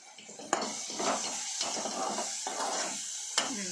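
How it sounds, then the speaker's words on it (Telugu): Horse gram curry in a pan being stirred after sesame powder goes in, with repeated scraping and stirring strokes and a few sharp clinks of a utensil against the pan, close and moderately loud, no talking. "ఇప్పుడు కలుపుకుంటున్నా కొంచెం"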